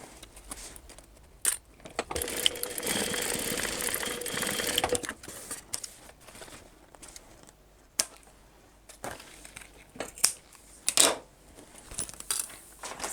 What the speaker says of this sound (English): we want to sew along that corner